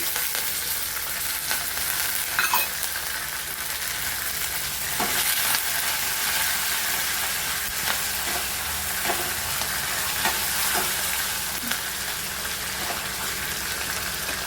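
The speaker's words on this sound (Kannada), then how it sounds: "ಸಾಸಿವೆ ಹಾಕ್ತಾಯಿದ್ದೀನಿ. ಕರಿಬೇವು ಹಾಕ್ತಾಯಿದ್ದೀನಿ." Mustard seeds and curry leaves sizzle and crackle steadily in hot oil, a continuous frying hiss with scattered small pops and a stirring clatter throughout, close and fairly loud, with no voices.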